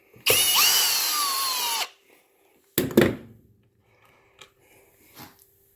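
A power driver whirs loudly for about a second and a half as it backs a Phillips screw out of a Bissell Big Green 86T3 carpet cleaner, followed by a couple of shorter bursts and faint handling clicks.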